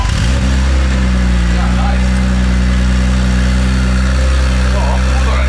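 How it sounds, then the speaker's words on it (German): A BMW 1 Series convertible with a G-Power exhaust and secondary air pump fires up from cold and settles into a loud, deep, steady idle drone, close to the microphone. "Ich kann mal einen Soundcheck machen. Kaltstart, warte mal."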